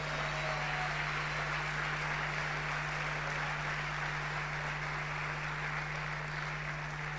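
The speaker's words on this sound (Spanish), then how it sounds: "Aplausos para el Señor." A church congregation applauds in a steady, dense wash of clapping that runs unbroken from start to end, with a constant low electrical hum underneath.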